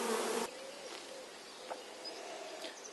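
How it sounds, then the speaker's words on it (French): Honeybees on a divisible breeding hive drone in a soft, steady buzz close by, following a brief louder burst at the start. "que les abeilles remontent sur le couvain"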